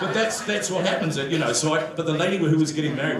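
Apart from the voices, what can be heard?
None of the usual background noises is heard.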